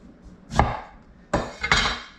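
A knife slices soft limes in half on a cutting board while weakfish is prepared at the dock, giving two or three short, dull chops with brief pauses between them, close and fairly quiet.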